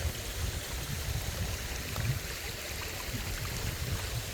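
Steady rushing and burbling of a rocky creek in Sewanee, Tennessee, continuous and fairly close, with no voices.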